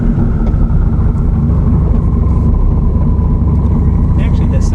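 A 1000 HP Corvette Stingray on a street cruise, its engine a loud, steady, heavy rumble that holds constant throughout, heard close as if from inside the car.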